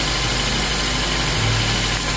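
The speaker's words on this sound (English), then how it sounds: "So guys, I just started the car up." A 2003 Honda Element 2.4L AWD with an overheating problem idles just after start-up, its engine giving a steady, close, even hum with a slight rise in pitch partway through and no voices.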